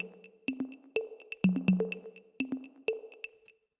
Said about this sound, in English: I also had this kind of clave loop.